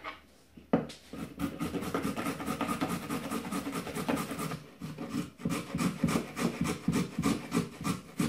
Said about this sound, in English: As you can see, I've just grated a carrot.